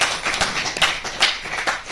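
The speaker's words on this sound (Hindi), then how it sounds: "तो डबल ताली बजाइए।" An audience at a meditation retreat centre clapping in rhythm, a brisk series of sharp, fairly close hand claps in a steady double beat with no talking over it.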